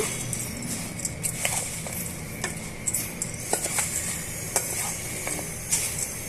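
Puffed rice masala for a roadside-style street snack being stirred in a bowl, soft scraping and clinks of a spoon against the sides, steady and close with small irregular taps, no talking.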